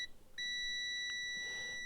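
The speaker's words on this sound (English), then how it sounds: "it give you an audible beep so you can hear if things are continuous" A Venlab MV-200M or MV-500A multimeter gives its continuity beep, a steady, high-pitched electronic tone that starts abruptly and holds for over a second, with no voices.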